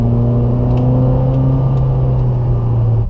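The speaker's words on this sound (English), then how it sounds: "I could probably make an entire review of nothing but me reacting to the noises the 458 makes." Ferrari 458, a rear-wheel-drive sports car, with its engine revving and pulling hard while driving, a loud, close, sustained engine drone whose pitch holds and then climbs slightly, with no talking.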